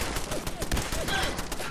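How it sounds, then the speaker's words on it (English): A turret in the video game Fallout 4 firing a fast rattling burst of gunfire, continuous rapid shots throughout, close and loud. "it's a turret"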